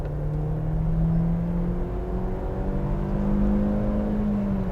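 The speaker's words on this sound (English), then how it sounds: "When the turbo comes in, the car really flies." A Skoda with a 1.8 turbo engine accelerates hard, its engine note climbing steadily in a loud, close, continuous drone with rising whine.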